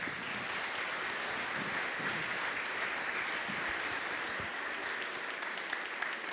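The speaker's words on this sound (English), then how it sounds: "can we give these guys a round of applause?" A church congregation gives a steady round of applause on Mission Sunday, dense and even from start to finish, fairly distant and soft, with no voices standing out.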